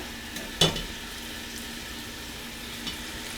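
Raw beef dropped by hand into a pot of hot vegetable oil, giving one sharp splash and a steady low sizzle that lingers, with a faint second pop later.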